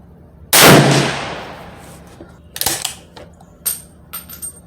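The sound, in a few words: Swiss K31 rifle gunshots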